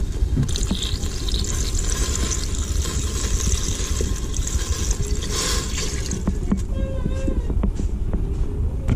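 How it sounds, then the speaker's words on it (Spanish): Water poured into a jalapeño pickling mixture in a kitchen, a continuous splashing, gurgling stream filling the pot at close range, with a few clinks near the end. "ahora le vamos a agregar también la misma cantidad de agua señores"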